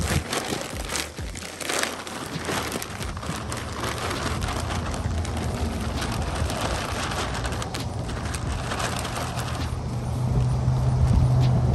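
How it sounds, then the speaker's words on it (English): Loose soil from a plastic bag is dumped into a planting bed, making a steady, close, rushing patter like rain with a crinkle of plastic, then swelling a little louder toward the end. "I'm just gonna dump it in here"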